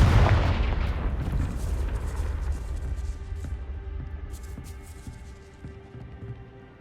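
A Confringo blasting spell explodes at a gatehouse in the game Hogwarts Legacy, a single loud, deep boom followed by a long rumbling decay with scattered debris crackles.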